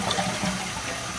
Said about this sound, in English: So as I flush it, you'll see what happens. Water starts to come down.